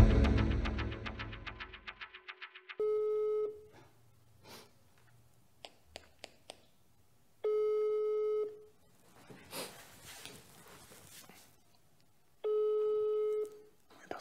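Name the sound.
telephone ringing with no answer during a call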